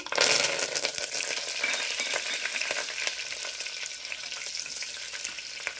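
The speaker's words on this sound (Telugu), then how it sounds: "ఇప్పుడు కరివేపాకు వేసేద్దాము" Curry leaves and mustard seeds crackle and fry in hot oil, a steady dense sizzle with scattered sharp pops and a louder burst at the start, with no voices.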